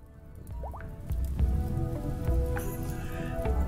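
Steady rainfall from the video game Rimworld, a continuous wash of patter and drips at moderate volume with no speech.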